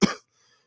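A single short, loud human cough up close, a sharp burst that fades quickly into near silence.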